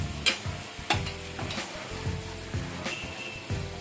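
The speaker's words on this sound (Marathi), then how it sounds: "पुन्हा एकदा मस्त आपण हे परतून घेऊया" Masala sizzles in a pan with fried fish about to be added, a spatula scraping and stirring in repeated strokes over a constant frying hiss.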